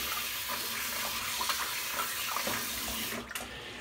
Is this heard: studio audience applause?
no